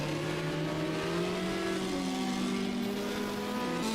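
Hill climb race car engine at the Dobšinský kopec round of the European Hill Climb Championship, droning steadily through the gears with rising and falling pitch, mid-distance and continuous, no voices over it.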